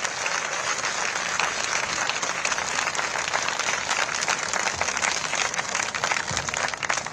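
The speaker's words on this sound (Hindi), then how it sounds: "हमारे महाराज जी के लिए एक बार जोरदार तालियां होनी चाहिए।" A large audience at a Lucknow skill festival event claps loudly for Chief Minister Yogi Adityanath, dense sustained applause that carries on evenly throughout.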